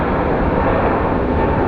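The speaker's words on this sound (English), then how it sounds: "Evo sada gledamo kako poleće ovaj Airbus." Airbus A320neo airliner with new-generation engines taking off at Phoenix Sky Harbor, a loud, steady broadband engine roar filling the short moment with no voices.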